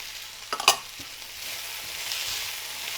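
Carrots and other vegetables sautéing in a pan, with a brief clatter of stirring near the start and then a steady, close, gentle sizzle, with no voices.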